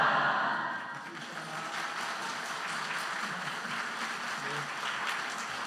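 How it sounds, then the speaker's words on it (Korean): A church congregation applauds together after a Sunday worship prayer, a steady, broad wash of clapping that starts strongest and settles into an even, sustained roar with no speech over it. "예, 뜨겁게 박수로 격려해 주시면 감사하겠습니다."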